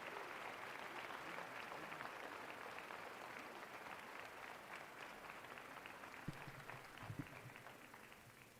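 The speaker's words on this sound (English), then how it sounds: "Give them one more round of applause." An audience at a spring commencement ceremony claps steadily for medal recipients, a dense, even wash of applause that holds throughout at moderate distance, with a couple of louder thumps near the end.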